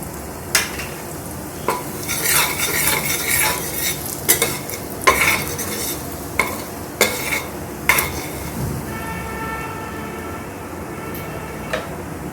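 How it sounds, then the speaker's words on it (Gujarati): Cumin seeds and asafoetida hit hot oil in a pressure cooker for Mumbai-style pav bhaji, giving a close, bright sizzle. A spoon clinks and scrapes against the metal in sharp irregular knocks throughout, without speech. "હવે આપણે એમાં જીરું નાખીશું. હવે આપણે એમાં હિંગ નાખીશું."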